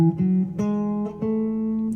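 A major scale played note by note on a sustained, harmonically rich instrument in a blues lesson, a few clear stepwise pitches close and fairly loud with no talking.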